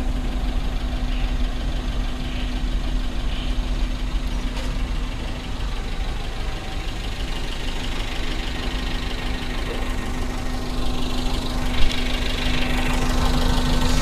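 Suzuki Mega Carry 1.5 pickup engine idling, a steady low mechanical hum with a constant drone and light rattling, close and even throughout, with no voices.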